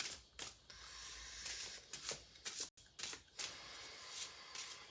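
A deck of cards being shuffled close up during a psychic reading session, with repeated riffling bursts of crisp card flutter separated by brief pauses.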